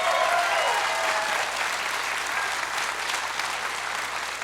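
Live audience applause for two musicians at a music session, a steady, full crowd clapping that carries on evenly throughout.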